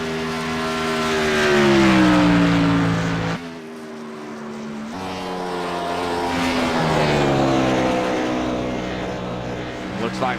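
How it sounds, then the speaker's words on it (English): A race car engine roars close by, its pitch sweeping up and dropping through downshifts. After a short dip it climbs again and stays loud and continuous throughout. "Looks like maybe a little bit of downshifting going on."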